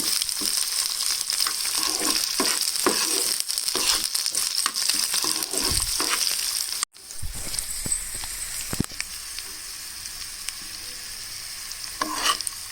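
Green chillies and onion fry in a pan, a dense, loud crackling sizzle with scraping stirs. A sudden break leads into a quieter, softer sizzle with occasional spatula knocks, and no voices.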